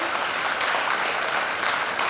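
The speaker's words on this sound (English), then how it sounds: "can we hear a big round of applause?" A big round of applause from the audience at a college event's prize announcement fills the room, a steady, even wash of many hands clapping at once with no break.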